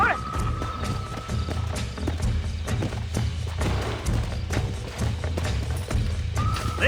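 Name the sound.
horse hooves clip-clop in the video game Red Dead Redemption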